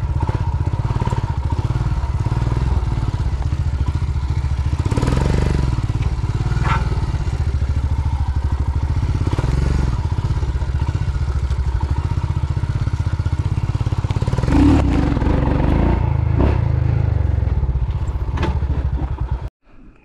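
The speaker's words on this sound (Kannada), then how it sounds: "ಸೊ ಜಸ್ಟ್ ಒಂದು ವೀಲಿ ಹೊಡಿತಾ ಇದ್ದೀವಿ ಇವಾಗ." A Hero Xpulse motorcycle revving hard during an off-road wheelie on rocks, its engine roaring loud and close with continuous throttle surges and rattling clatter, cutting off abruptly at the end.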